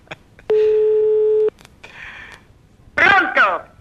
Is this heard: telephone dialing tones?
yes